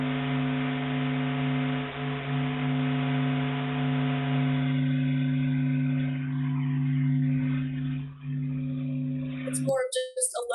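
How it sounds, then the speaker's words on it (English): Radio waves from the sun converted into audible sound give a steady low hum with strong sustained tones and a hissy wash above, fading slightly before an abrupt change to a brief chattering burst at the end. "It's more of just a low hum."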